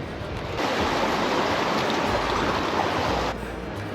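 A small mountain river flowing in a steady, broad rushing wash that swells slightly louder in the middle and stays constant throughout, with no voices.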